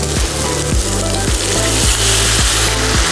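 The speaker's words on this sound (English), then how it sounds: "you want to hear a sizzle when you add the wine" White wine poured into a hot risotto pan sizzles in a dense, bright crackling hiss, close and loud, with low rhythmic thuds recurring underneath.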